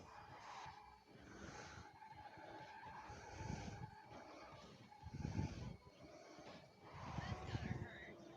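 Tires skid and squeal as a car slides in the racing game Asphalt, fairly quiet, with engine noise and a faint voice in the background.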